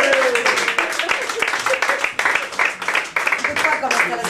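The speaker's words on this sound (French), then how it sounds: "sous vos applaudissements, vous dites." An audience at a live concert claps for a guest impersonator, a dense burst of close applause with a voice speaking over it.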